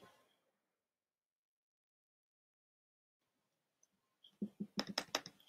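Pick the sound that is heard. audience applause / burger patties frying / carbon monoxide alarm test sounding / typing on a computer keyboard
typing on a computer keyboard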